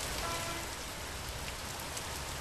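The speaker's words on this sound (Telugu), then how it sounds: "జిల్లా వ్యాప్తంగా పలు చోట్ల ఈ దుర్గాలులతో కూడిన వర్షం కురుస్తోంది." Heavy rain with gusty winds drums steadily on surfaces across a district, a dense, even hiss of falling water with no voices.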